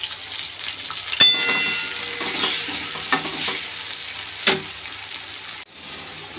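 Chopped tomato and green chilli frying in a pan with salt, a steady sizzle with occasional sharp stirring scrapes and clinks, close and continuous with no talk.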